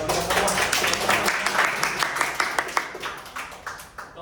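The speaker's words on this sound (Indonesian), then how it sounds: "kita kasih tepuk tangan dulu dong" A small group at an informal session gives a round of clapping, a quick burst of fairly close, uneven hand claps that tapers off, with faint voices underneath.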